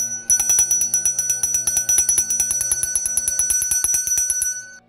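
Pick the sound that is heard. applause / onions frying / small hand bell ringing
small hand bell ringing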